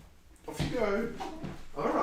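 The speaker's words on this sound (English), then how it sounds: "That's my dog." A pet dog whimpers and whines for its breakfast close by, a few high, wavering cries that overlap with a person speaking calmly.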